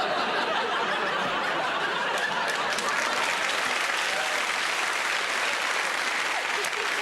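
A studio audience at a game show breaks into sustained applause, a loud, continuous wash of clapping with scattered laughter running through it from start to finish.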